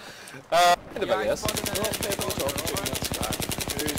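Battlefield 3 gameplay erupts in rapid automatic gunfire, a steady loud rattle of closely spaced shots that follows a short burst of noise near the start.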